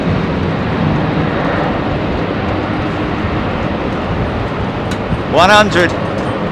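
A heavy jet airliner accelerates down runway 27R at London Heathrow, a broad steady roar of engines filling the scene, with a voice speaking briefly near the end.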